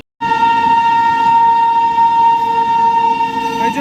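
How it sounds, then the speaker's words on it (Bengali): A loud, sustained train horn sounds close by as the Netaji Express arrives at a station, a steady tone that holds unbroken for several seconds. "এক্সপ্রেসের খবর হলো এবার ট্রেন ঢুকবে"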